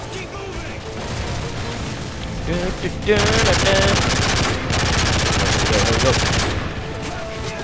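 Rapid machine-gun fire and booming grenade blasts from Modern Warfare 3 gameplay erupt loudly in dense bursts, building into a sustained barrage after a quieter opening where someone briefly speaks.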